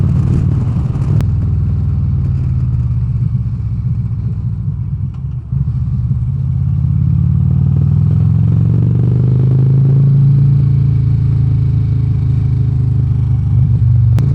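A 2009 Harley-Davidson CVO Road Glide motorcycle under way, its engine a steady, loud low rumble that swells slightly midway, with wind and road noise continuous throughout and no talking.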